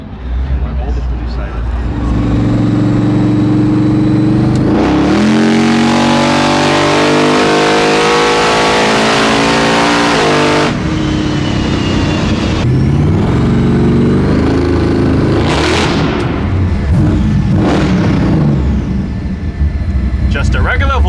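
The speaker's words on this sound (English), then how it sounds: "He's full throttle right now" Supercharged LS-swapped Volvo engine revved hard at full throttle, a loud, close roar climbing in pitch, dropping back, then surging again in several sharp bursts, with people talking over it.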